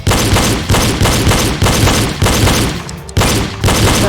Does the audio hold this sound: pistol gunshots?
yes